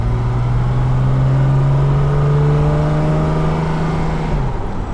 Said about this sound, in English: So it revs up.